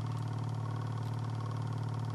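A small resonant Stirling engine runs steadily with no one talking, giving a constant, even mechanical hum with a strong low drone and a rapid, uniform buzzing pulse that holds at the same level throughout.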